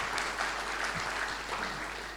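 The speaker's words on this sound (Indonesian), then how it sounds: "Tepuk tangan bagi Tuhan Yesus." Applause from a congregation during a Sunday church worship service, a steady dense clatter of many hands clapping filling the room without a break.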